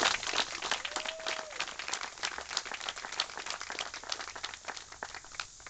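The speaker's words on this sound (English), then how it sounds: "I think that deserves a round of applause for the guy right there" Applause honoring a man's 55 years of dedicated service at a building dedication: a dense, steady wash of many hands clapping from a crowd, continuing evenly throughout.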